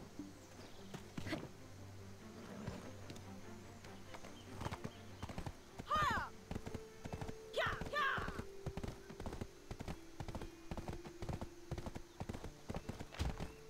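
Horse hooves clip-clopping in the MMORPG Black Desert Online, a steady run of hoofbeats over game ambience with a couple of brief whinny-like calls and occasional talk.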